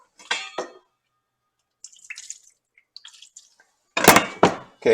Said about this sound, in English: I'm going to splash a little water on this.